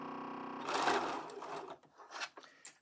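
A sewing machine stitches down a quilt block seam, with fabric layers feeding under the needle and presser foot. A loud, steady motor whir starts abruptly, then breaks into shorter bursts and pauses as the machine slows.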